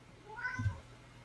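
A single faint cat meow, short and nasal, rising briefly over a quiet indoor background.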